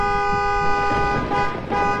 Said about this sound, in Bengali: এটা গাড়ির আওয়াজ ছিল না?